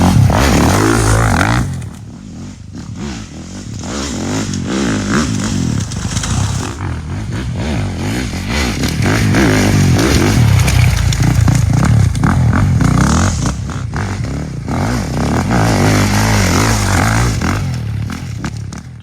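A Beta 450 dirt bike engine revs and runs loudly and continuously up close, the engine note rising and falling through the whole stretch with some clattering mechanical noise.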